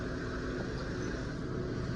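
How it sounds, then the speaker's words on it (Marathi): A car's engine runs steadily close by as it is driven out of a house, a constant low rumble with no gaps or revving surges. "गाडी काढतात बघा ह्यांनी बाहेर"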